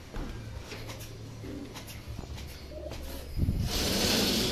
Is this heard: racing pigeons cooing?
yes